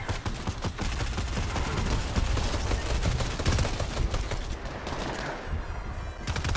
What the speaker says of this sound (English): I love this rapid fire SMG, but like, I have no range.